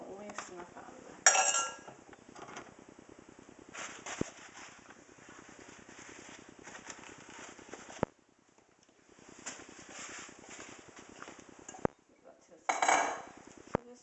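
A spoon clinks and scrapes against a pan while laddu mixture is stirred, with a steady rhythmic scraping and a few sharper metallic knocks, fairly quiet, with a voice talking at times.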